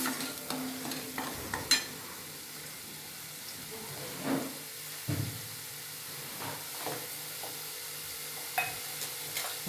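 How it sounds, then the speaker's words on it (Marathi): Masala paste being fried in oil in a pan for stuffed eggplant (bharli vangi). It gives a soft, quiet sizzle with scattered clinks and scrapes of stirring, and no talking. "मसाला आपला चांगला फ्राय झालाय"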